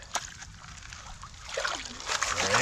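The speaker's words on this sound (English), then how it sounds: "Wash off some of the clay water." Water splashes and sloshes in a gold pan as clay water is rinsed off rocks, with soft trickles building into steadier close-up sloshing toward the end.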